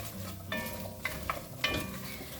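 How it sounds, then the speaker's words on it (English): Chopped onion going into a hot pan of butter for a gluten-free Irish stout beef stew, giving a steady close sizzle with brief scraping stir sounds and light utensil clicks. "first thing I add back in is the onion"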